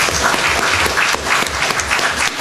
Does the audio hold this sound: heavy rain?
no